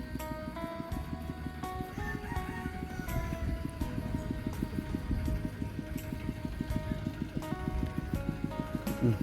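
A tractor engine chugs in a small village in a Lao mountain valley, a steady, fairly faint run of rapid rhythmic knocks that continues evenly throughout.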